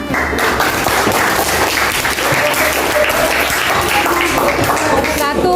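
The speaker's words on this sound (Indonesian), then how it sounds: "Sudah, tepuk tangan." Audience applause fills a school literacy presentation hall, steady dense clapping from many hands lasting throughout, loud and close, with some voices mixed in.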